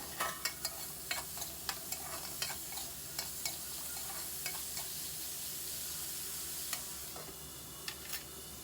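Radish and peanut chutney mixture with salt and turmeric cooks in a pan, giving a soft, steady sizzle with faint periodic taps and scrapes of stirring, no talking.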